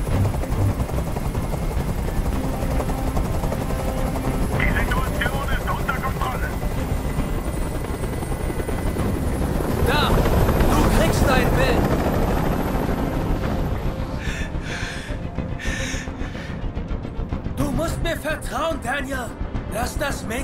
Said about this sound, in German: Dieser Helikopter soll verschwinden.